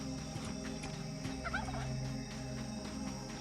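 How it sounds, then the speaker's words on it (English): Turkeys gobbling in the survival video game Soulmask, several bubbling gobble calls rising clearly midway through over a steady hum of ambient game noise at night. "Lucky I know it's just turkeys and stuff around here."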